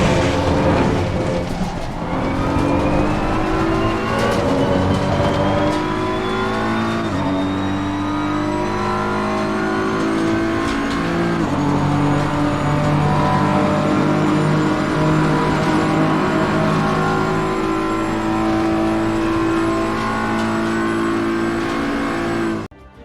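A BMW M4 GT3 race car at Imola in a racing simulator, its engine revving hard and climbing through the gears with sharp shifts and some downshifting, loud and continuous throughout.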